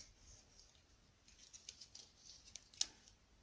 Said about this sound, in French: ma paire de ciseaux, ouais. Là, c'est pareil. Donc, surtout, je vais déjà les couper à l'avance.